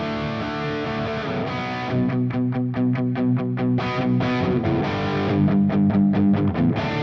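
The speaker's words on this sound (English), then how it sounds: "let's add some reverb in." Distorted electric guitar, reamped through a Nux MG-300 with reverb added, plays chords and repeated picked notes with a washy, echoing tail, loud and continuous.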